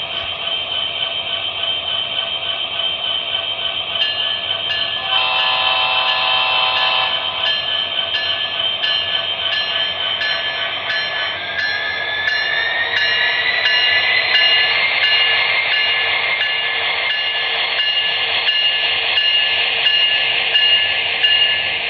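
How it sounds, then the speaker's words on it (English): MTH SD70ACe model locomotive in Union Pacific 1988 Katy MKT livery running with Katy couplers, a loud steady motor whine with rising pitch and a regular ticking rail-joint clatter throughout. "So I'll show you how locomotive does it all."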